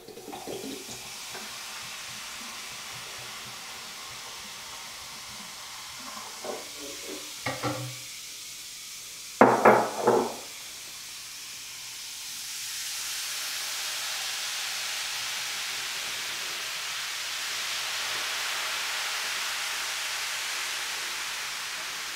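A cup of white vinegar poured into a clogged shower drain splashes briefly, then settles into a soft, continuous fizzing hiss as it foams, faint and rising slightly over the quiet second half.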